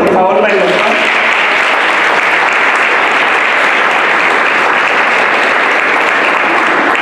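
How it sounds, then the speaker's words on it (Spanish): A ceremony audience at a school launch of an anti-violence program applauds, a dense and loud wall of clapping that holds steady for several seconds. "Un aplauso, por favor, para el doctor."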